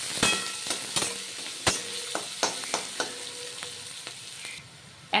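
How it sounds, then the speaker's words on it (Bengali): Chopped onions fry in oil in a pan with a steady crackling sizzle, broken by repeated clacks and scrapes of a spatula stirring them, close and without speech. "এবার ভাজা ভাজা করে নেব পেঁয়াজটা"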